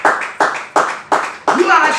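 A church congregation applauds during a sermon, five loud bursts of clapping in quick succession, with cheering voices rising in the last one.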